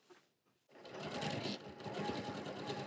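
A sewing machine runs steadily after a brief pause, stitching pockets on a garden apron with a close, even mechanical whir that continues to the end.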